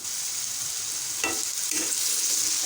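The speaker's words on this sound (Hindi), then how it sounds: "और अब मैं इसको अच्छी तरह से तेज़ आंच पे इसको फ्राई करूँगी।" Spicy potatoes fry on a tawa over high heat, a steady bright sizzle with a couple of soft stirring scrapes.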